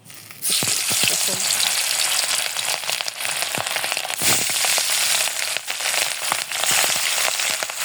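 Hilsa fish frying in hot oil in a wok, a loud, dense, steady sizzle with sharp crackles that starts abruptly and holds close and continuous throughout, with no voices.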